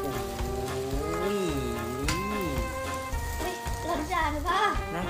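Rice noodles stir-fried with soy sauce, pad see ew style, sizzle and hiss steadily in a hot pan while voices talk over the cooking the whole time.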